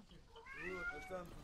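A house cat meows in a drawn-out, rising and falling call close to the microphone, wanting to be let outside, heard during a relaxed gaming session at home.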